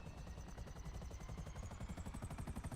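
A helicopter in the GTA 5 Enhanced PC game thumps with fast, even rotor beats over a droning engine whine, steady and fairly quiet, with no voices.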